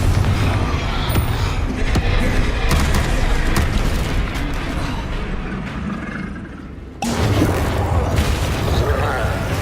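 Confringo explosive spells from Hogwarts Legacy go off in quick succession as repeated loud booms over dense combat noise. The blasts briefly drop away near the end, then return at full force.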